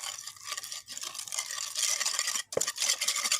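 A chicken marinade of vinegar and soy sauce is mixed up close, giving a steady wet scraping and stirring that runs almost without a break, with one short pause midway.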